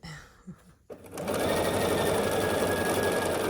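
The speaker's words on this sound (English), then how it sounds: "So we're just sewing here" After a brief quiet moment with a few soft handling sounds, a sewing machine starts stitching a small quilt block, running at a fast, steady, loud whir close by.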